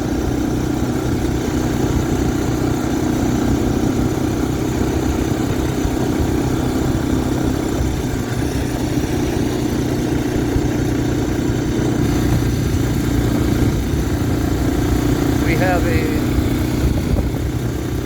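A 1985 Honda Big Red 250ES three-wheeler runs with a steady, close engine drone throughout, its pitch steady and the level loud and constant.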